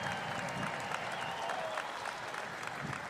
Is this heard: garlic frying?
no